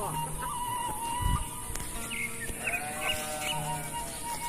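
A Garut fighting sheep bleats in a rural village beside rice fields, with a few moderately loud wavering calls over steady background noise and a brief bump of handling noise.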